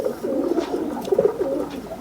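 Pigeons coo in a keeper's loft in Jammu, a steady run of low, throaty coos close by, several birds overlapping in soft rolling phrases with no talk.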